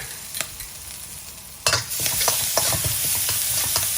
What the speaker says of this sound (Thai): ใส่น้ำมันลงไปครับ ตามด้วยพริกกระเทียม ที่เราปั่นนะฮะ